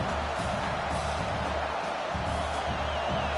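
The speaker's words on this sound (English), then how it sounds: "the crowd really making some noise now" A loud, steady roar of a large college sports stadium crowd, continuous broadband noise without clear individual voices, sustained throughout.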